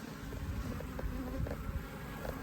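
Steady, dense buzzing of many honey bees, mostly drones, inside an opened hive, a soft continuous hum with occasional closer passes.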